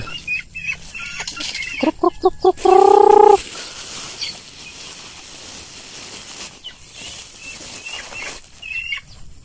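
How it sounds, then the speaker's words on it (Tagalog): Chickens in a coop give a quick series of loud clucks and a drawn-out squawk, then a stretch of rustling and scuffling that fits wing flapping, with faint clucks near the end. "Yung mga manok dito, mga maliit pa."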